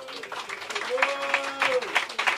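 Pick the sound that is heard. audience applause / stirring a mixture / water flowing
audience applause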